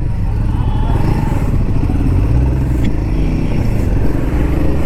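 A Royal Enfield Himalayan 450 single-cylinder motorcycle on a test ride, its engine a steady, loud, close thrum with a slight buzz, mixed with rushing wind noise and no talk.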